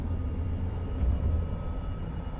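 Steady low jet engine roar of an F-22 Raptor climbing out at reduced throttle in the X-Plane 11 flight simulator, a continuous, fairly loud rumble with no talking.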